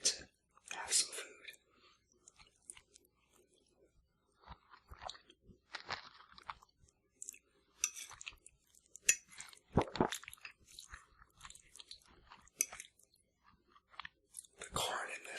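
Close crunching and chewing of bean chili with corn and rice chips, irregular crisp bites and mouth sounds alternating with soft whispering in a quiet setting.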